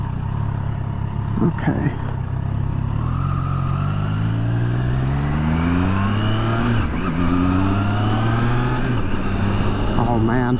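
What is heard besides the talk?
three-cylinder motorcycle engine accelerating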